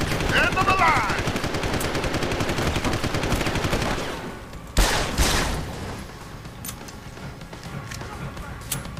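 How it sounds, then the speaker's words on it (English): Rapid automatic gunfire in the video game Deus Ex: Human Revolution, dense bursts filling the first several seconds, then a loud sharp shot and sparser, fainter fire, with a voice talking over the shooting. "Gunshots!"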